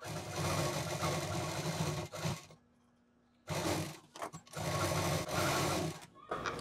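An electric sewing machine stitches a belt-style strap for a sling bag in a home workshop. It runs loud and steady for a couple of seconds, stops briefly, gives a few short bursts, then runs steadily again.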